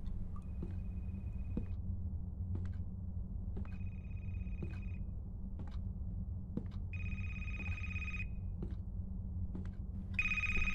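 A telephone rings repeatedly inside a horror puzzle game set in an endless library, electronic trilling bursts recurring over a low ambient drone with faint ticking, growing louder near the end.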